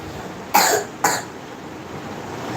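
Two sharp, close coughs in quick succession, each a short burst with a fading tail, separated by a half-second pause in an otherwise quiet room.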